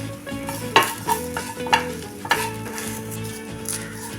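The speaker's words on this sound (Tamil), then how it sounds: "இதை நெய்யில் நல்லா 2 நிமிஷத்துக்கு வதக்கிக்கணும்." Grated coconut sautéed in ghee in a pan for coconut burfi gives a steady close sizzle, broken by repeated scraping stirs of a spoon against the pan, with no voices.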